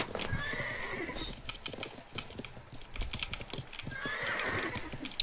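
Horse hooves clip-clop and a horse neighs in a combat video game, with faint background clatter under the steady game sound, heard at moderate distance.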